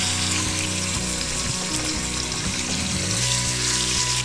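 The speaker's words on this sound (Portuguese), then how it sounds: "A carne vai dourar, ao mesmo tempo soltar um pouco de água" Beef sizzles in a pan with browned garlic while pot-roast meat sears and releases water, a continuous loud crackling hiss with some clatter of stirring and no talk.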